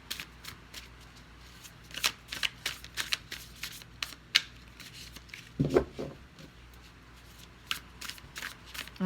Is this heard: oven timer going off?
no